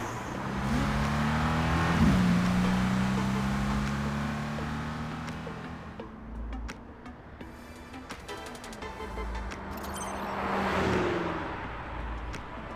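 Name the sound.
car accelerating, stepping on the gas, from video game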